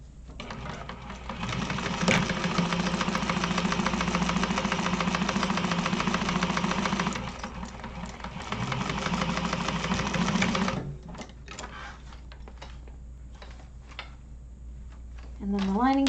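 Sewing machine running a long seam across the bottom of the exterior panels of a zippered pouch, a loud continuous motor whir for about ten seconds, then stopping, with a voice talking afterward.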